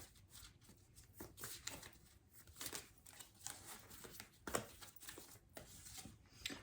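Tarot cards being shuffled by hand, a steady run of soft papery riffles and slaps at close range, with no talking.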